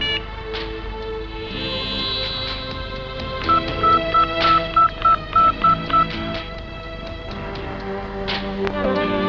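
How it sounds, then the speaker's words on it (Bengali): A phone number is dialed in a Bangla film scene: a quick run of distinct keypad tones beeps one after another over background music and ambient sound. "তোর নাম্বার থেকে কামালকে ফোন লাগা।"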